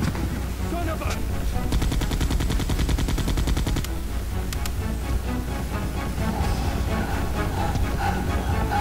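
Rapid automatic gunfire in Resident Evil 2 rattles on continuously over a loud game soundscape, with dense repeated shots and a brief pause midway.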